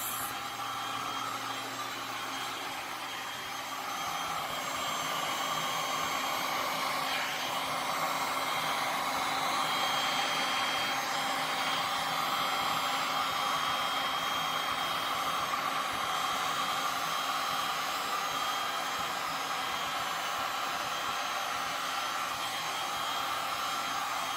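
A heat gun blows a steady, loud airy roar over resin poured on a wooden tabletop, starting after a brief quieter moment and holding constant to the end, with no speech.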